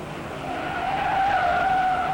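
A race car slides on the dirt track at the 1957 Darlington Southern 500, a steady skidding screech with a rising tone over continuous engine roar, loud and sustained.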